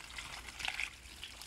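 Water trickles and splashes through a colander while salted fish is rinsed, a soft, fairly faint running patter with a few brighter splashes.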